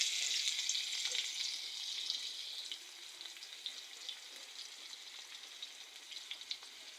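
Chopped onions browning in hot oil in a large batch give a steady, close hiss that is loudest at first and then eases into a quieter sizzle dotted with small crackles and pops. No voices.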